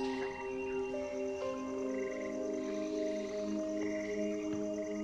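A chorus of frogs croaking in a small-town setting, overlapping steady trilling and pulsed calls at moderate distance, continuous and without talk.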